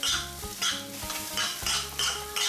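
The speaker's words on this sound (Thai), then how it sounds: "ใส่ข้าวสวยลงไป ข้าวสวยเป็นข้าวสวยหุงข้ามวันไว้นะครับ จากนั้นผัดคลุกเคล้าให้เข้ากันครับ" Day-old cooked rice is stir-fried for shrimp fried rice in a pan, with repeated rhythmic spatula scrapes and metallic clatter in quick bursts, close and fairly loud, with no talking.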